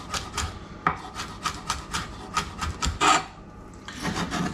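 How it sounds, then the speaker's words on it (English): A knife roughly chops fresh parsley, stalks included, on a board in a quick series of irregular dry thuds and scrapes, close and fairly quiet. "I've got some parsley, which I'm just going to roughly chop up"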